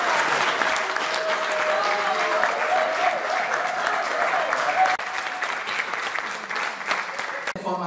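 An audience at a Rabat artisan training-course closing ceremony applauds the trainers, a loud, dense wash of clapping that holds steady and eases slightly toward the end, with a few voices mixed in.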